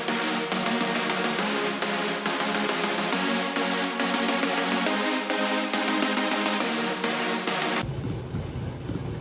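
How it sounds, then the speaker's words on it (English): A dense, bright chord layer from the Avenger synth sustains loud and continuously with faint rhythmic pulses, then cuts off abruptly near the end, leaving a short noisy tail. "this third one is the chord layer, which comes from one of my favorite synths"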